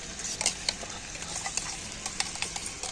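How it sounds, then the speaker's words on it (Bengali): Sour yogurt is beaten with a spoon in a bowl until creamy: a soft, wet churning with light, irregular clinks of the spoon against the bowl, close by. "এবার দইটাকে আমি একটু চামচ দিয়ে ফাটিয়ে নেব"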